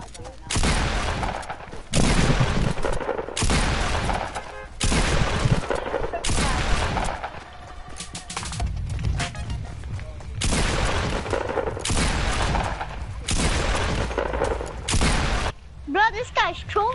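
Shotgun blasts in a video game, loud repeated booming bursts in quick succession with short gaps, mixed with game effects and a voice talking over it.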